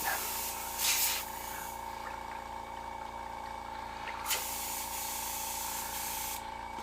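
Airbrush hissing steadily while being rinsed out, a continuous close spray with short louder bursts near the start and middle, over a constant background hum.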